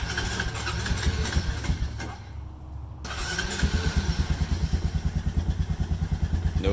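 Several ATV engines cold-start in 39°F weather after sitting for about a week and a half, cranking then catching into a loud, rapid, thumping idle close by.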